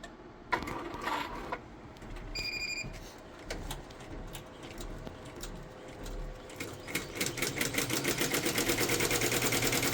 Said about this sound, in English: We're doing a sample stitching of this logo